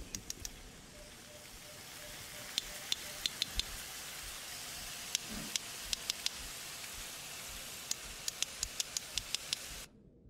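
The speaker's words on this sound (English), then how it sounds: "what you heard there were two whales making codas with each other" Sharp underwater clicks from two sperm whales exchanging codas in short patterned bursts, the two series trading back and forth over a steady hissing background.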